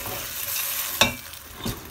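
A spoon stirs a frying caterpillar (bizo) dish seasoned with Vegeta in a pan, giving a close sizzle with one sharp scrape-knock and a second softer stroke.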